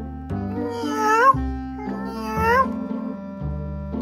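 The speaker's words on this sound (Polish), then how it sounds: "co to kotka usłyszałem?" A cartoon cat meows twice in a Polish children's animation, two drawn-out rising and falling calls, clear and close, with musical backing underneath.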